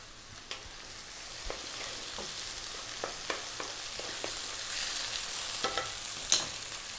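Tomato goes into a sizzling pot of mushroom tom yum soup, a steady hiss of frying with scattered stirring clacks and spoon taps, close and moderately loud, no voices.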